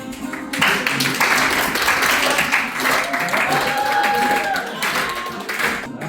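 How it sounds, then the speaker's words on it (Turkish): An audience breaks into applause, a steady wash of many hands clapping at moderate loudness that swells after a short lull, with voices talking over it. "Alkışlar nerede?"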